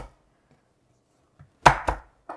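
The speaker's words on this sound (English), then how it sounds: "we'll take 3 cloves of garlic, just lightly bashing it and chopping it" A knife chops garlic cloves on a board in a few sharp, close strikes: a faint tap, then two loud chops in quick succession and one lighter chop at the end, with no talking.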